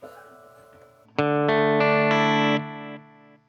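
Guitar through a Strymon Timeline delay pedal set to full modulation depth at half speed: after a faint lead-in, a loud chord rings out with gently wavering, warbling sustain and a short trailing tail, no voices.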